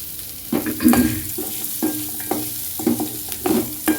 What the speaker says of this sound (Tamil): சிம்மிலே வச்சு கொஞ்சம் நல்லா வதக்கணும்